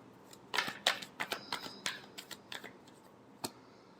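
Tarot cards are shuffled in a quick run of crisp riffling snaps and flicks, close and fairly quiet, then a pause and a final single snap.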